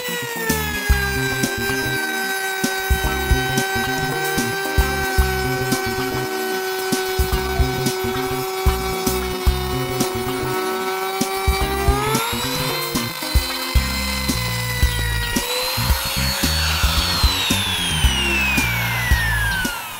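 Hasston ART3105-001 trimmer router running at about 30,000 RPM while slotting wood, a loud steady high-pitched whine with rapid cutting chatter, pitch dipping briefly around the middle and again near the end, no voices.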